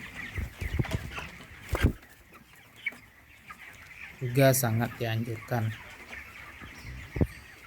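Broiler chickens around 23 days old cluck in short bursts near the feeders, mixed with rustling, while a person speaks over them.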